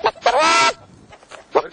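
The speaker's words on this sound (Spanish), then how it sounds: "las gallinas sí que le contestan y todo, lo estoy oyendo" Chickens in a farmyard hen coop answer a call with loud, honking clucks and squawks, one long harmonic cry in the middle flanked by shorter calls, close by with no talk.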